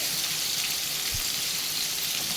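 Chicken pieces fry in hot oil in a pan, giving a steady, close hiss and crackle that holds even throughout, with one soft low thump midway and no talk.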